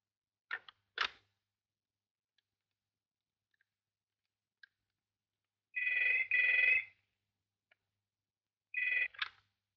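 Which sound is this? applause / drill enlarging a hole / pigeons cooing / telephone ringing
telephone ringing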